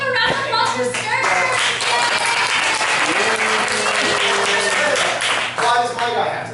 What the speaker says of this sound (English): Everyone, let's give a round of applause for Sturge!